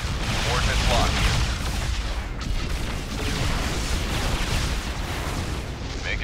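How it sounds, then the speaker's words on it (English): Heavy gunfire and explosions in the real-time strategy game StarCraft 2, a dense continuous barrage of loud booms and shots throughout, with voices talking over the battle. "We're under heavy fire here."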